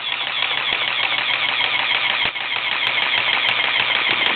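A small motor on a Lego automatic air compressor kicks on and runs continuously at about 200 RPM, a close, steady buzzing whir with a brief dip partway through.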